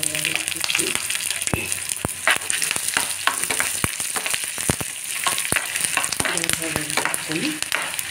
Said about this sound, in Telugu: మిరపకాయలు వేసిపోయి ఇలా మెంతులు ఇవన్నీ కూడా వేసి